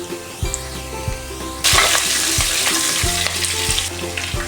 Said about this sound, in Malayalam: ഇതിലേക്ക് പച്ചമുളക്, കറിവേപ്പില ചേർത്ത് കൊടുക്കാം